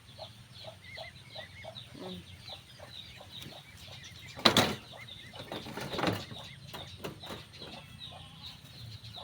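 Young cockerels cluck in short repeated bursts across a farmyard, with bird calls, a brief flurry of wing flapping and faint background noise.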